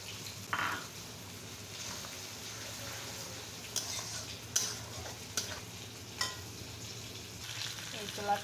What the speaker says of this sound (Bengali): আর এখানে আমি মশলাটা কষিয়ে নিচ্ছি।